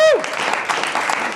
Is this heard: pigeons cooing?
no